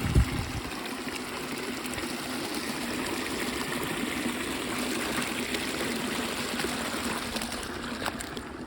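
A creek on rural homestead land in North Georgia flows steadily, a constant close rushing and trickling of water that stays even from start to finish with no voices.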